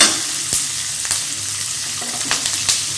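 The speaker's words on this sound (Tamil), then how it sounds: "வெங்காயம் போட்டு நல்லா வதக்கிக்கோங்க." Onions sauté in a pan with curry leaves, giving a steady close sizzle broken by a few sharp stirring clicks and scrapes, with no voices.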